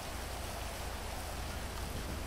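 Steady rain in the GTA 5 Online video game, a constant even hiss of falling drops throughout with no voices and no thunder.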